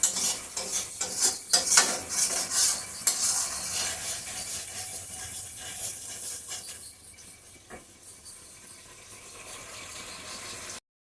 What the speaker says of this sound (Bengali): এখন একটু বাড়িয়ে দিচ্ছি মশলাটা কষানোর জন্য